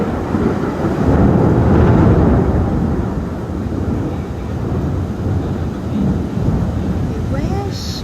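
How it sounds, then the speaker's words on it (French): A heavy thunderstorm rumbles in a deep, continuous roar, swelling loudest in the first seconds, then holding steady with broad low-frequency noise that suggests rolling thunder and rain. "Là vous avez entendu l'orage."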